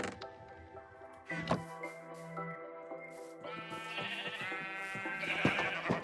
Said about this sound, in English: Okay, let's move our sheep.